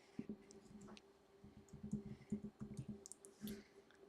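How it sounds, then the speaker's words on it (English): Slow typing on a computer keyboard during a live stream, with soft irregular key clicks in small bursts and pauses, faint and close, against a low steady hum. "You can hear Eric typing."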